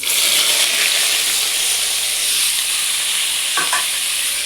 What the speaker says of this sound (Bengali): এখানে কাঁচা লঙ্কা, পেঁয়াজ, রসুন, আদা বাটা দিয়ে দিলাম।